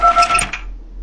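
Electronic phone ring in the Five Nights at Candy's 2 horror game: a loud, clear repeating tone bursting twice in quick succession, then fading into quiet.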